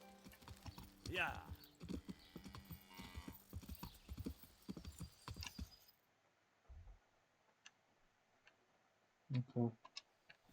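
A horse's hooves clip-clop in the medieval video game Kingdom Come: Deliverance, starting under game dialogue, then a few sparse, faint hoof clicks with some louder thuds near the end.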